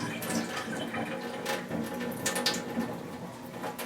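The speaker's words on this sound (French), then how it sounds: "on va égoutter l'eau et verser l'eau dans le lavabo sans verser les grains de riz" Rice-rinsing water is drained into a sink, with a continuous close splashing pour and small trickles through the rice grains, at moderate volume.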